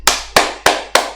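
Four sharp hand claps in a steady, even rhythm, loud and close with no talking, applause offered to the government and people of Phuket, Thailand.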